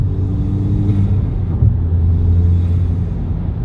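A Mk5 Golf GTI with Stage 2 hardware revs in short blips as the throttle is pressed and released, a deep rumbling engine note rising and falling twice, loud and close with no talking.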